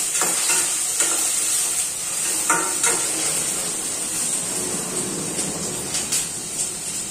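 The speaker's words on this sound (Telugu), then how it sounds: "ఇలా ఆనియన్, పచ్చిమిర్చి, కరివేపాకు ఆయిల్లో మంచిగా ఫ్రై అవ్వాలి." Onion, green chili and curry leaves fry steadily in hot oil, a continuous sizzle carrying throughout with periodic scraping clicks of a spoon stirring the pan, close and moderately loud.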